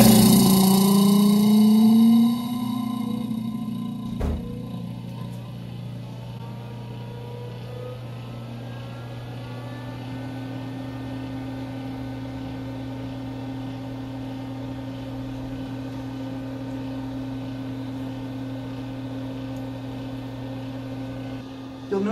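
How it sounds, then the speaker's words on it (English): An Agilent IDP-15 dry vacuum pump is switched on and settles into a steady, quiet low hum with a faint higher whine, running continuously and close by, with no talk. "You'll notice how quiet this pump is,"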